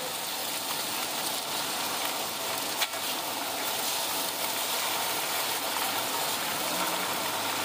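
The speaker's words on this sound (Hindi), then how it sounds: "अब इसके अंदर हम ये भोंग का गोश्त डाल देंगे।" Beef shank for nihari going into a pan of frying garlic and ginger, giving a steady, moderately quiet sizzle that runs throughout with a brief clatter near the middle and no voices.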